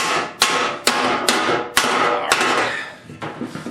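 Sharp metallic hammer blows on sheet metal being shaped into fender wells at a forge, six distinct strikes at a steady, unhurried rhythm with ringing decay between them, close and loud.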